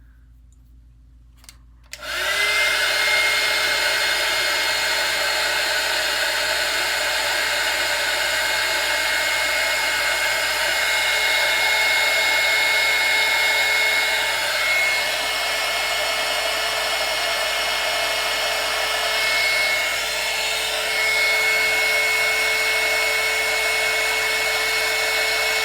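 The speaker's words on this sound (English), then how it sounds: "I'm going to Hit her with this hot gun." After a quiet start, a heat gun switches on and blows hot air over fresh paint. It roars in a loud, steady, close drone for over twenty seconds.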